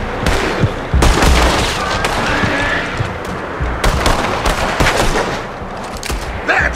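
Heavy gunfire in a Red Dead Redemption 2 shootout, with repeated loud cracks and bursts of overlapping shots arriving irregularly, some close and sharp, some in clustered volleys across the whole stretch.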